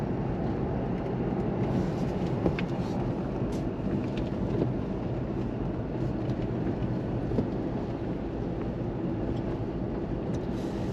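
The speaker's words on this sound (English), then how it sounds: "the rain's just started to come down" Steady rain pours down over a town street, a dense continuous hiss without pauses, with a faint low rumble underneath and no voices.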